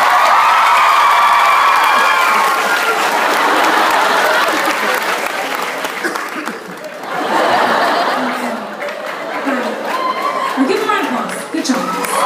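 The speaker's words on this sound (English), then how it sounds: "Give them a round of applause for helping me out." A live comedy audience in Dublin claps loudly and steadily, mixed with cheers and laughter, the applause fading midway and then rising again as a performer talks over it.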